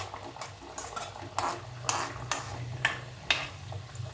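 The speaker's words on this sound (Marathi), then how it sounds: "चमच्याने असं तेल असं हे करत राहायचं, हलवत राहायचं असं तेल" A small spoon stirs rava masala shankarpali frying in hot oil, rhythmic clinks and swishes repeating about every half second over a soft bubbling sizzle.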